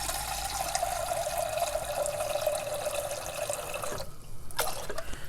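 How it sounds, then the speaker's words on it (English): Fresh water pours steadily from a tap into a larger cooking pot for nameko mushroom miso soup, a continuous close splashing stream that cuts off near the end. "Fresh water in here."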